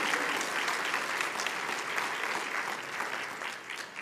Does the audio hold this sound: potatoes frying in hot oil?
no